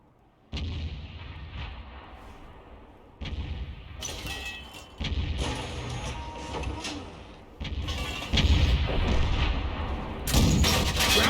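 Artillery fire and shell impacts in a tank video game, several heavy booming shots and hits arriving in bursts every few seconds, loud and close without speech.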